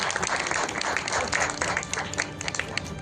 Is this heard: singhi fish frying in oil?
no